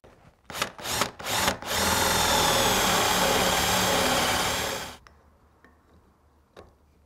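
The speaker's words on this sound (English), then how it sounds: "pick up our Forstner bit in the cordless drill and drill that out" A few short bursts of a cordless drill with a Forstner bit, then a sustained loud whir as it bores into timber for several seconds before stopping, followed by light clicks.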